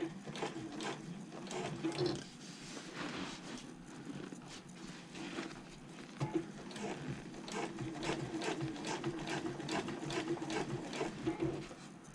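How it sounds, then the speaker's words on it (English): Sewing machine stitching over a held-open side accent seam on a handbag while attaching the liner and exterior, a steady fast mechanical chatter running through the clip at moderate distance. "I'm holding open this seam of the side accent as I stitch over it"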